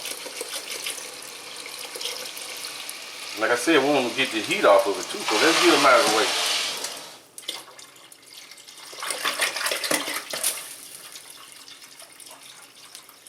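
A kitchen tap runs cold water for a turkey brine, a fairly close splashing rush that swells in the middle and then trails off, while someone talks throughout.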